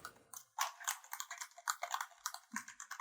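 Fingers tap quickly across a budget keyboard with a built-in 10-in-1 USB hub, giving a close, uneven run of clacky keystrokes with a cheap, light feel and a brief pause near the end.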